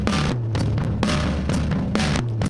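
A heavily compressed parallel drum track from a two-mic kit recording, squashed and loud with punchy kick and snare hits in a steady groove, cymbals smeared into a dense wash, no talk.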